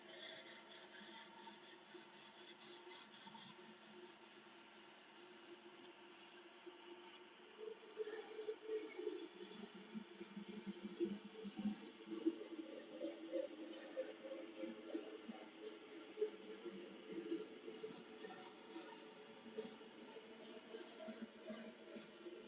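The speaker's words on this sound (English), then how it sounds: "I'm going to see what happens if I spray green over it." Short bursts of spray paint hiss repeatedly as green is sprayed over a fishing lure, in quick on-off pulses, with faint handling sounds beneath.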